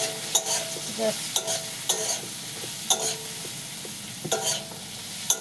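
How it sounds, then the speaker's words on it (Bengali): A cumin powder masala being sautéed in a pan, stirred steadily: repeated scraping strokes of a spoon roughly every half second over a soft sizzle, close and clear, with no voices. "এবার জিরার গুঁড়া দিয়ে তো এটাকে ভালো করে একটু কষিয়ে নেব"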